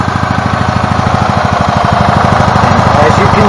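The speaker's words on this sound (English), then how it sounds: "got my battery charger off and my cart running" A gas golf cart engine idles at low RPM close by, a fast steady chugging pulse throughout, with a voice speaking over it.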